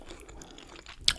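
A McDonald's french fry gets bitten and chewed close up, soft muffled mastication capped by one brief crunchy bite near the end, with no talking.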